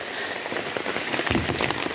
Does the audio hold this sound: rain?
yes